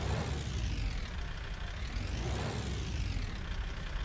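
A steady, rumbling video game car engine drone, a Land Rover, with a gritty tractor-like low-end throb, runs continuously, its pitch rising and falling slowly like revving.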